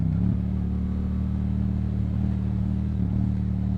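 Yamaha MT07 motorcycle engine droning at steady moderate speed while riding along twisty roads, a constant low hum with faint wind noise and a slight throttle change near the end.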